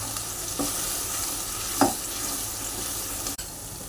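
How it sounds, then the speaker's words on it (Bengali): Spice masala for a cauliflower roast fries in a pan over a low-to-medium gas flame. A steady close sizzle runs throughout, broken by a few brief scrapes of stirring. "দিয়ে ভালো করে নাড়ি চাড়িয়ে নিতে হবে"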